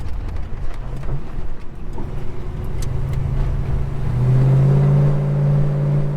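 A Holden HK car engine rumbles, then revs up into a steady, loud, deep drone that holds near the end.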